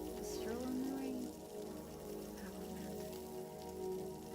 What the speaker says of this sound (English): A stroll in the rain.